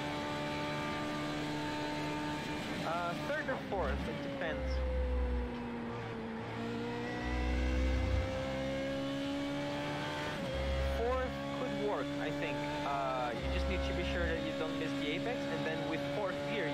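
Formula Renault 3.5 race car in a racing video game, a steady droning engine note rising and falling through gear changes, with low thumps recurring, continuous and fairly loud throughout.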